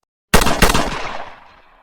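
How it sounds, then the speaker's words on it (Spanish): Two gunshots ring out one right after the other, a sharp close pair of loud cracks about a quarter second apart, followed by a long fading echo. "Entonces, 2 disparos, uno tras otro."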